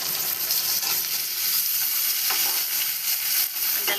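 Onion and tomato sautéing in a pan for a mixed-vegetable khichdi, a steady close sizzle and crackle of frying with occasional stirring scrapes throughout, no voices.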